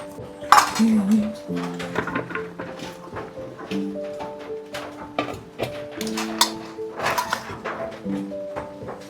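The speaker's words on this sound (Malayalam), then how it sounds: "അപ്പോൾ നമുക്ക് ആദ്യം ഇതെല്ലാം കൂടി ചേർത്ത് ഇത് ഇളക്കിയെടുക്കാം" A utensil clatters and scrapes in a pan while crushed garlic and tomato sauce are stirred together, giving quick metallic clinks and knocks in an uneven rhythm, up close, with speech heard among them.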